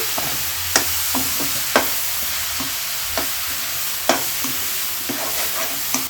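Cardamom powder stirred into a coconut laddu mixture in a pan, the spoon scraping in a steady run of sharp clicks and scrapes over a faint sizzle, close and alone.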